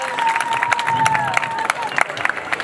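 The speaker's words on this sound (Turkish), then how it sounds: "alkışlarla uğurluyoruz sayın başkanımızı, değerli yarışmacılarımızı" Audience applause at a Turkish folk minstrel festival honoring Aşık Sümmani, a crowd clapping with scattered louder claps and a faint hum of voices, accompanied by a sustained tone throughout.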